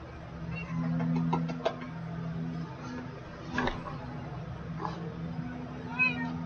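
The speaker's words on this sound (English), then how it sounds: "Oh, I got both cats in here." Cats in a video game give several brief meows scattered over a few seconds, mixed with soft thumps and a sustained low droning tone in the background.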